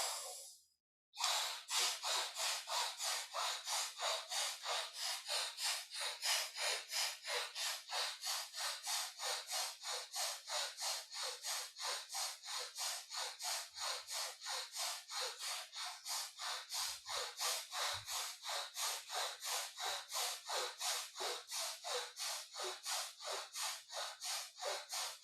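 Rhythmic yogic breathing, forced exhalations through the right nostril with the left closed, repeating steadily and fast for the whole stretch, close and clear with no talking.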